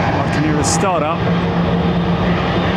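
Jet airliner engine spooling up at Heathrow, a steady loud broadband roar with a rising whine, while people talk over it.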